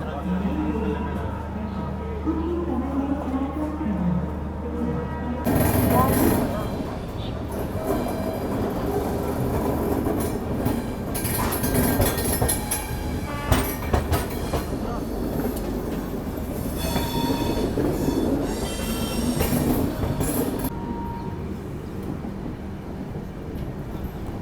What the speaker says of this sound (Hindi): चलिए भाई 5:40 को हमारी ट्रेन देखिए निकल चुकी है।